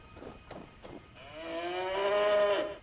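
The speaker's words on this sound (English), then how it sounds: "but that only leads you to a cow" A cow lows in a long, rising moo after a few faint footstep-like taps, heard alone and fairly close in the fantasy role-playing game Icewind Dale.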